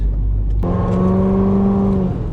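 A Corvette engine roars up through the revs in a sustained, loud pull on a wet road, its tone climbing steadily before cutting off abruptly.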